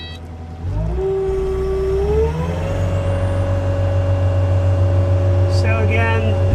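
A 2022 Kubota SSV65 skid loader's diesel engine cranks, catches and settles into a loud, steady idle with a rising whine, close by, with some brief clatter near the end.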